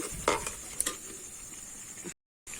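A spoon stirs and scrapes spiced masala paste frying in a pan for chicken kosha, with a few sharp clinks against the metal over a soft sizzle, then a brief silence before the stirring resumes.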